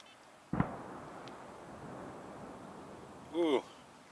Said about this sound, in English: That was the shooting of the cannon over at West Point.